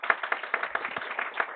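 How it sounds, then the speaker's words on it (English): Audience at a lecture meeting on international taxation claps in welcome for a guest speaker, a brief burst of scattered, moderately loud hand claps with an uneven rhythm and no voices. "Please welcome him with a very loud applause."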